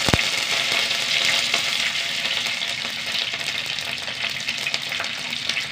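Fenugreek seeds, a dried red chilli and curry leaves spluttering in hot oil: a loud, close, continuous sizzle with dense popping crackles, opening with a sharp pop, and no voices.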